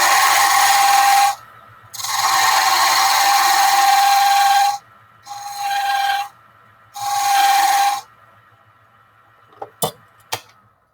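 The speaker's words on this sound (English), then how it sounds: "we call that the diamond tool. And we can just push that straight into the wood" A diamond tool presses straight into spinning wood on a wood lathe, cutting grooves in four loud, sustained rasping bursts separated by short pauses, followed by a few sharp clicks.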